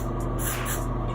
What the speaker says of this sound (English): You spray them well.